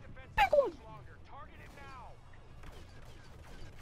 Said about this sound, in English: I'm gonna shoot at this guy